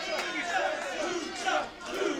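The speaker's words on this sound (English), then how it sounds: "El Blanco Gordito starting to whip this crowd into a frenzy here, as the fans at the AML arena getting behind him" Wrestling fans in an AML arena crowd roar and shout in rising waves, a loud, dense wall of cheering that swells several times over a couple of seconds.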